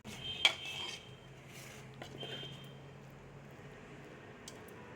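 Raw tamarind chutney stirred in a metal pot gives a sharp clink near the start, then soft scraping and a few light taps, faint and close, with no talking.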